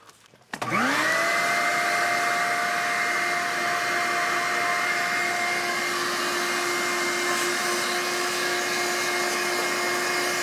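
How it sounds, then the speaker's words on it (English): A motor starts abruptly and settles into a loud, steady whine that drones on unchanged, like a vacuum cleaner running close by. "I'm gonna get the vacuum ready."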